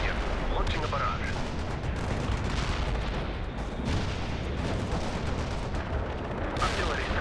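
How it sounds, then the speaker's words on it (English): An artillery barrage in the real-time strategy game World in Conflict rumbles continuously as a dense roll of heavy booms and blasts, loud and unbroken throughout, with radio voices talking over it. "Artillery strike on the way."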